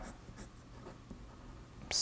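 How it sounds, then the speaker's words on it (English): Pencil drawing on paper, soft continuous scratchy strokes close up, quiet and steady, ending in a sharper scrape. "Slow your pencil down, break your pencil on camera, beautiful."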